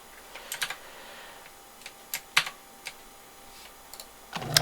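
Keyboard typing while alt-tabbing out of the Transport Fever game: scattered sharp key clicks and taps, close and clear, with a quick flurry of keystrokes at the end.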